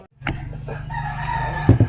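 A rooster crows once nearby, a loud, drawn-out call ending in a couple of sharp notes.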